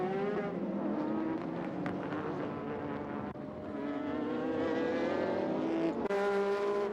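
GT race cars battling in the 1999 JGTC series, the Artis XL Skyline passing the Raybrig Honda NSX, with several engines droning and revving in overlapping layers, loud and continuous, one car sweeping past near the end.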